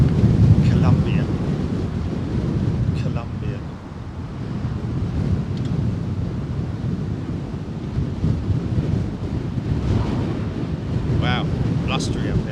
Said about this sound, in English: Wow, blustery up here.